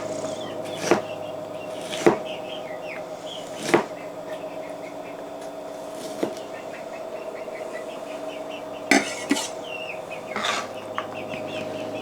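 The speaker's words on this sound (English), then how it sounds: "I'm going to cut them in half first, and then slice them up" A knife cuts jalapeno peppers on a board, sharp chopping taps landing about eight times at uneven intervals, each one distinct and close, over a steady low background hum.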